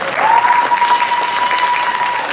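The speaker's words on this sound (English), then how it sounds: "let's give our contestants a round of applause" Loud audience applause fills a school gym after a high school Poetry Out Loud recitation contest, a steady broad clatter of many hands with a faint tone running underneath.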